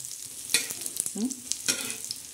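Roasted onion being stirred and scraped aside with a utensil in a hot pan, scattered scraping clicks over a light sizzle.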